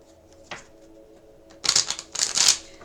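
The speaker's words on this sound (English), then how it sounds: "So let's shuffle up this little baby mini Rider-Waite." A mini Rider-Waite tarot card deck being shuffled close up: a single soft tap, then a quick series of crisp riffling and flicking bursts of cards, loud and dry, with no talking.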